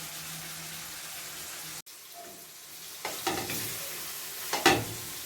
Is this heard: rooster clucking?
no